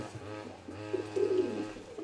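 An old female pigeon, about ten years of age, gives a low soft coo that swells in the middle, close and alone against quiet room noise.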